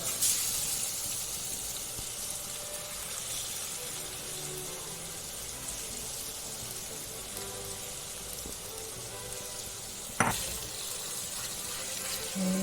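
Marinated chicken lightly frying in coconut oil, a steady broadband sizzle and hiss holding throughout, with one sharp crackle or tap near the end.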